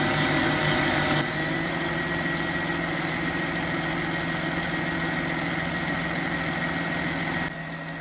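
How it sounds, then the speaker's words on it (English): An electric mixer runs steadily on a high setting while whipping cream into homemade butter, making a continuous motor whir with a sharper opening second, close and without voices. "See, this mixer here will gradually speed up. And it'll get to that high setting."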